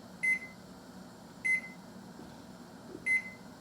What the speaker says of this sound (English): So I'm going to turn my timer for 1 minute.